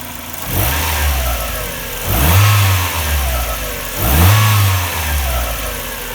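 A 1997 Mazda Miata's 1.8 liter four-cylinder engine, heard up close, revved three times from idle, each blip rising sharply then falling back to a steady idle, loud and free of speech.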